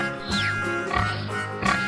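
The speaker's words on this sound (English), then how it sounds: "It is a pig." A pig oinks and grunts in a few short, snuffly bursts, close but fairly soft, with no talk over it.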